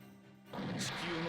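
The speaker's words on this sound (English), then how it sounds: "Beam rifle time." A beam rifle attack from a mecha unit in Super Robot Wars 30 bursts in after a quiet half second, a loud sustained blast with a sharp crackling flare on top.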